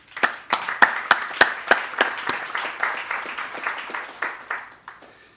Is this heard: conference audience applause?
yes